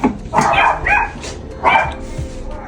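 Several dogs bark and yip in short bursts close by. A couple of clear barks stand out, with faint whimpering between them, in what sounds like a kennel or indoor room. A voice may be faintly present underneath.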